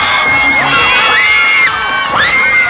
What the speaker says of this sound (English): if those energetic kids were able to just scream at the top of their lungs for 3 hours non-stop